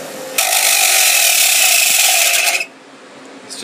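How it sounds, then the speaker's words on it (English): A bench grinder, switched off and slowing, runs with a loud, steady broadband whine as a piece of low carbon steel stock is pressed against the wheel for about two seconds, then drops away to a quieter spin-down hum. "Turn off your bench grinder. I'm going to slow it down with a piece of stock here"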